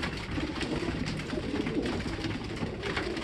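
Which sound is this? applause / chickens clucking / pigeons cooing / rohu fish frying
pigeons cooing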